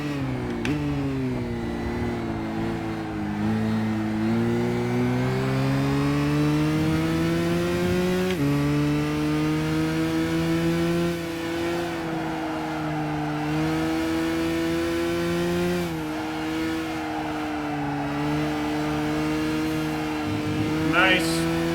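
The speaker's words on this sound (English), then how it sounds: "Man, that Porsche is pretty quick as well." A Porsche race car engine in the game Gran Turismo 5, a droning engine whose pitch climbs and drops through repeated gear shifts, loud and continuous, with someone talking over it.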